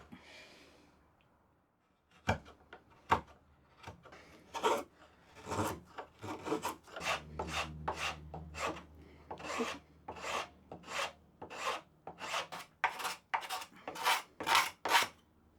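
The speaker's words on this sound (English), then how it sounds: "just use the sandpaper just to take off these sharp edges, just so they don't want to split" Sandpaper rubbed by hand along the sharp edges of a wooden twist-lock saw vice, a close, steady series of raspy strokes that begins after two seconds of quiet and grows quicker and more regular.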